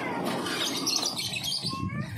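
Songbirds chirp in a bird shop in Palangkaraya, giving a busy overlapping tangle of bright tweets and short whistled calls, close and fairly loud throughout.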